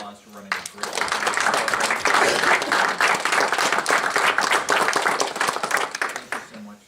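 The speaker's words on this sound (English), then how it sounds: "Can we first give Erin and Mal a round of applause for running a great" An audience at a town board meeting bursts into a round of clapping that builds quickly and holds steady for several seconds before tapering off, dense and fairly close.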